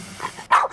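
A single sharp dog bark from a TV commercial, preceded by a low grumble, loud and close.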